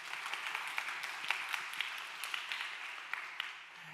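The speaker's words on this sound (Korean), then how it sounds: "박수 한번 칠까요?" A church congregation of university-age young adults claps together: a continuous crackling patter of many hands with a few sharper individual claps standing out, fairly close and steady.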